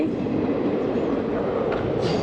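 The Simhadri Express (train 17240, Visakhapatnam to Guntur) pulls into Samarlakota station with a close, steady heavy rumble of wheels and cars, and a faint metallic squeal rising near the end.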